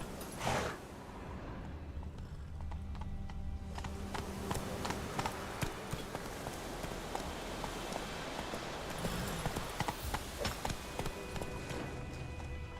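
Roach, Geralt's horse in The Witcher 3, gallops with a steady, continuous clip-clop of hooves close by, running throughout without pause, with rustling ground and ambient game sounds beneath.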